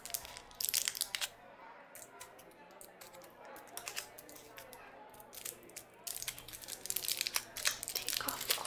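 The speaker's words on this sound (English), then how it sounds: "Take off all the foil that's on there." Crinkly foil being peeled off a small chocolate bowl close up, soft tearing and crumpling in bursts at the start and end with a quieter stretch between, in a gentle ASMR café setting.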